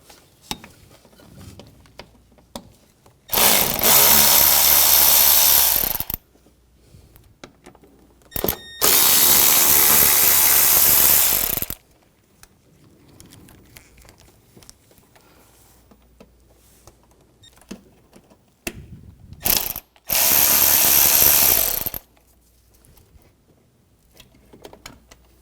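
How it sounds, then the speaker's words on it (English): Power tool running a T20 socket to remove side screws from a 2004-2009 Audi A4 radiator cooling fan module, in three loud sustained whirring bursts a few seconds long, with quieter clicks and rattles between them. "Now we're going to take these screws out on the side, use a T20 socket."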